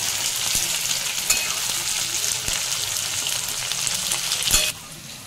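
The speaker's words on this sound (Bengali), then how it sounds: "পেঁয়াজটা হালকা একটু ভাজা করে নেব।" Onions and tomatoes fry lightly in a pan with a steady, close sizzle, broken by a few stirring clicks and scrapes before the sizzle drops off near the end.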